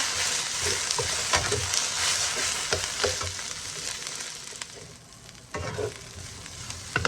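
Broccoli and onions fry in a pan for a homemade chicken and broccoli dish seasoned with black pepper and salt, giving a steady close sizzle broken by repeated scraping stirs.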